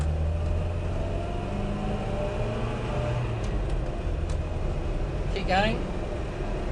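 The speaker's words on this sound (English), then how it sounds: "Nail it. Come on, rev it out." A 1970 Hillman Hunter, an unrestored daily driver, revs steadily as it accelerates, its engine drone rising in pitch under continuous excited talk from people inside the car.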